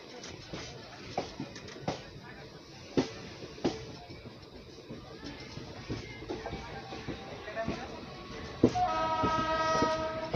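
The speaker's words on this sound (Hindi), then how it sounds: "मोतीचूर रेलवे स्टेशन से अपने ट्रेन का डिपार्चर हो चुका है" The Prayagraj Sangam Express pulls away from Motichur railway station, with rhythmic clacks of wheels on rail joints rolling steadily and a horn sounding near the end, all at moderate loudness.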